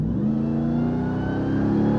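A 700-horsepower 2021 Ram TRX pickup engine revs continuously and loudly, a rising mechanical drone heard up close with no talking over it.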